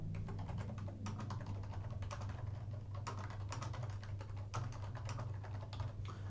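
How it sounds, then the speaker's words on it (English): Typing a message on a computer keyboard, heard as continuous quick clicking keystrokes in uneven bursts, close and fairly quiet over a low steady hum. "I can type out the rest of the message within this page"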